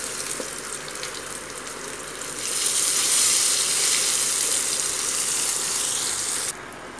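Eggplant slices fry in oil with a continuous near hiss that swells noticeably louder partway through, holds steady, then drops back abruptly at the end.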